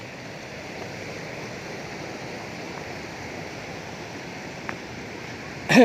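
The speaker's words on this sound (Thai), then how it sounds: "แล้วก็น้ำไหลมาเนาะ" Steady, continuous rushing of a waterfall in Sekong, southern Laos, filling the background evenly, with a brief sharp sound right at the end.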